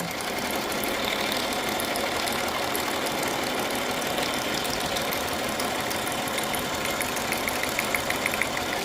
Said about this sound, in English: I am literally just doing a zigzag stitch all around that